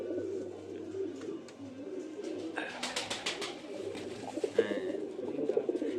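A pair of Kalasabuj Giribaz pigeons coo softly inside a loft, low murmuring calls over a steady background hum, with a brief flurry of wing flaps midway.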